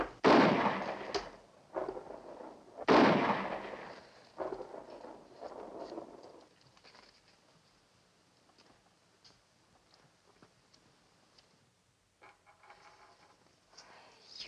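Gunfire from someone shooting squirrels in a 1956 crime drama: two heavy, booming shots close together up front, then lighter cracks and rumbling echoes that fade into a quiet, hissing background.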